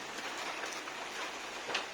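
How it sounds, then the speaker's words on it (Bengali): Heavy rain pours steadily over a village yard with ducks and hens, a dense, even hiss of falling water at moderate, constant loudness with no voices. "প্রচুর বৃষ্টি"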